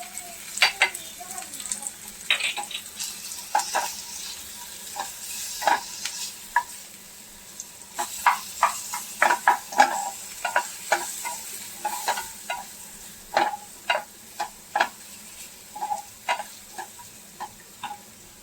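Stuffed shimla mirchi bell peppers fry in oil in a pan, giving a soft steady sizzle with scattered crackles and pops, close and moderately quiet.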